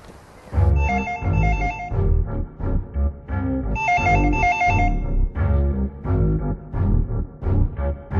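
A telephone rings in two short trilling bursts, loud and close, over a thumping rhythmic background.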